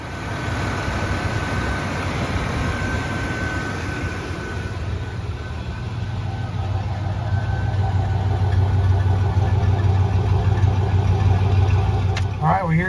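A 1992 GMC Sierra pickup with a 5-speed manual runs steadily with its air conditioning on, a low continuous engine drone heard close, with a voice speaking over it.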